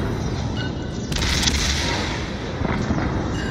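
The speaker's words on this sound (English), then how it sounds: "Let's get those rear guns out." Warship rear guns firing in World of Warships, booming artillery salvos with one loud blast and a few further reports rumbling close by.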